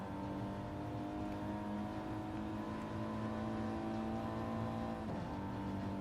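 An Audi race car engine in a racing video game, on a road track in Sardegna, holds a steady high-pitched whine throughout, with a brief dip in pitch near the end, loud and continuous with no voices.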